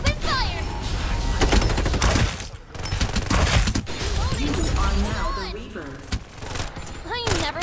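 Dense gunfire in the battle royale game Farlight 84, rapid bursts and volleys from a firefight mixed with impacts and crashes, continuous and loud, with voices talking over the shooting throughout.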